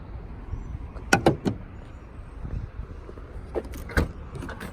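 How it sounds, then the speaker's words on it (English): Capless fuel filler door on a 2019 Honda Accord Hybrid being worked, a few quick plastic clicks and a knock close by, with soft handling noise between them. "Capless fuel filler."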